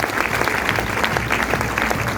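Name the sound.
audience applause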